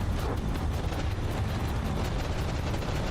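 Cannon shells fire nonstop in the naval combat game From the Depths, a dense, loud rumbling barrage of booms with no pause and no voices.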